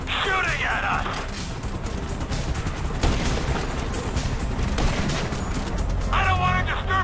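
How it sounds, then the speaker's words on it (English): Sustained automatic gunfire in a first-person GTA 5 shootout from a vehicle under fire, dense rattling bursts close and loud across the whole stretch, with shouted voices briefly at the start and end. "Tell the kid to stop shooting at us!"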